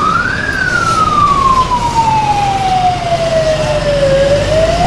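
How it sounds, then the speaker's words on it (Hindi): A loud ambulance siren wails continuously, stuck in a traffic jam on the Gandhi Setu bridge in Bihar, its pitch sweeping slowly downward then rising again, over a steady rumble of traffic noise. "जाम में एम्बुलेंस फंसा हुआ है गांधी सेतु पे।"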